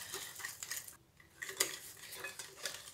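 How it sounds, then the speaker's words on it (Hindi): A hand whisk clinks and scrapes against a bowl while mixing chocolate cupcake batter, a close rhythmic run of metallic taps with a short pause in the middle and no voices. "ये हैंड विस्क के साथ ही अच्छी तरह से मिक्स हो जाएगा।"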